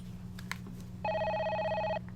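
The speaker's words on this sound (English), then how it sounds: "Phone ring dial tone there" A telephone ringing in the video game Parasite Eve, a single electronic ring of about one second over a steady low hum, clear and fairly close.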